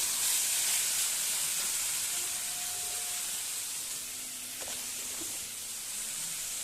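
Chowmein ingredients frying in a pan, a steady, fairly quiet sizzling hiss that runs continuously, with a few small clinks partway through.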